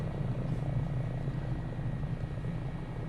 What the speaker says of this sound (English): So what the helicopter is doing now is pitching out to reduce speed.